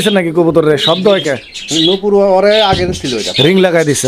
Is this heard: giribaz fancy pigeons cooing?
yes